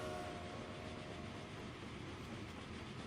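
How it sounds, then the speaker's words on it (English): Train rolling into a station in the Transport Fever railway simulation game, a steady dense rumble of wheels and carriage noise that stays loud and even throughout, with no voices. "Train that's pulling into the station."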